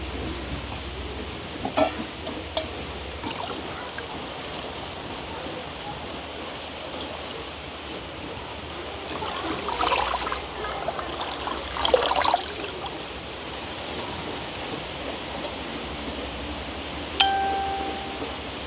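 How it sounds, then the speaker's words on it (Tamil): Ponnanganni greens, already cleaned, are washed by hand in water in a village kitchen, giving a steady trickling, sloshing wash with louder splashy bursts partway through. "அப்பா துப்புரவாக்கி தந்த பொன்னாங்கானிலே வந்து அப்படியே நல்ல வடிவாக கழுவி எடுக்க"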